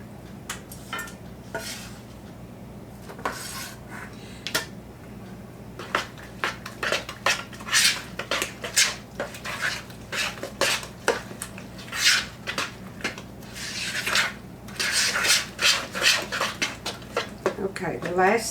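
Batter with onions and peppers being stirred in an iron skillet for a Tex-Mex dish, with repeated scraping and clinking of a utensil against the pan in uneven bursts, close and moderately loud, mixed with occasional speech.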